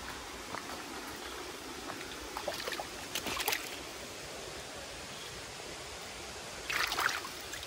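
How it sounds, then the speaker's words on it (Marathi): A small stream in a Konkan areca nut farm, a faint continuous trickle and gurgle of running water with a few brief splashy bursts. "आणि इथे हो आमचं पाण्याचं ओहोळ."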